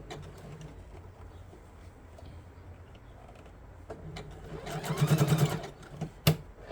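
A sewing machine stitching elastic hums quietly, then speeds into a louder run ending with a sharp metallic clack as the needle strikes a pin.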